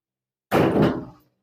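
A custom-built car door, cut apart and rejoined so it can be removed and refitted, swings shut in one solid thud with a short rattling decay and no talk.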